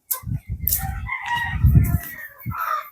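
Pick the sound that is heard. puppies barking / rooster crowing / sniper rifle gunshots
rooster crowing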